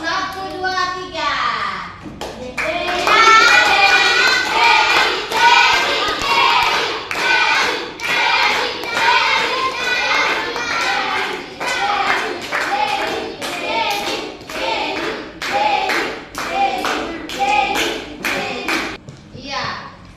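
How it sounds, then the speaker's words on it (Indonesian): A group of children claps hands together in a classroom during a math lesson, loud rhythmic bursts of clapping under lively kids' voices, repeated in quick rounds across the whole stretch. "Tepuk tangan."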